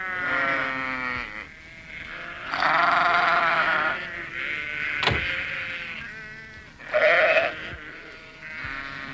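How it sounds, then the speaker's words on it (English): A flock of sheep bleats repeatedly as the animals are driven across a country road, with overlapping calls near and far and a sharp knock partway through. "It was Alf Thompson driving his sheep across the road."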